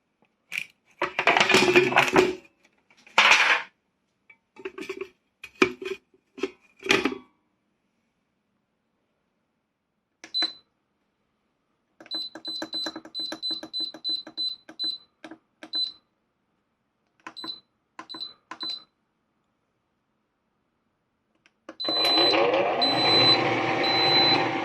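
A tray of spicy pork belly going into an air fryer: rattling clatter and knocks of loading, then a series of sharp electronic beeps as settings are keyed in, and the fan starting up with a steady whirring hum.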